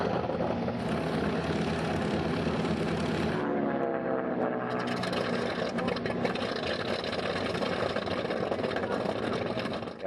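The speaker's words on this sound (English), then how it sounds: "When those engines start up, it really sounds good." Twin piston engines of a Grumman F7F Tigercat, a carrier-based Navy fighter of around 5,000 horsepower, roar steadily and loudly up close, a dense unbroken drone that dips briefly in pitch before resuming.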